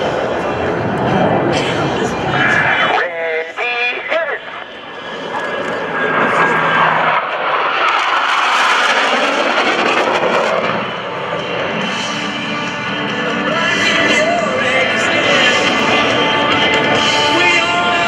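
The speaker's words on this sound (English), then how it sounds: "on a signal from Captain McWhirter, all four pilots will simultaneously roll their aircraft 360 degrees. A very precise Diamond Aileron Roll" Four US Navy Blue Angels jets roll together through a precise diamond aileron roll at a 2012 military open house air show. A loud, sustained jet roar sweeps past with a short dip midway, and voices talk over it.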